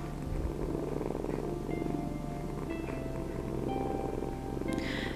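A cat purrs continuously in a soft, low, rhythmic rumble, close and steady throughout, with no voices.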